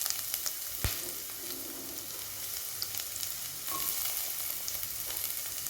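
Chopped large onion sautéing in hot oil in a pan for a jackfruit seed kurma, a steady close sizzle and crackle with occasional stirring clinks and scrapes.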